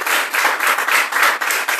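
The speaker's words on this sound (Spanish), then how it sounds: "Vamos a aplaudirle fuerte a papá de esta noche." A church congregation claps loudly in a quick, even rhythm, a dense close burst of hand claps lasting just under two seconds with no voices over it.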